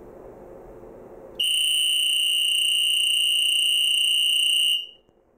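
Four electronic beepers sound together as one loud, piercing, steady high tone lasting about three seconds, starting abruptly after a quiet room and then cutting off.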